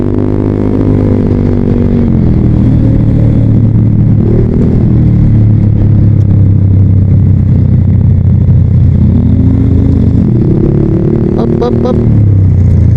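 Honda PCX160 scooter with its CVT, engine revving loudly and up close, pitch rising and falling through several strong throttle blips across the whole stretch.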